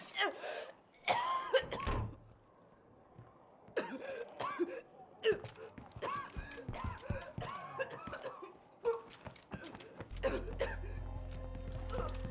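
Repeated harsh coughs and throat-clearing hacks come in bursts with short gaps between them, up close in a quiet night setting, ending under a low steady hum.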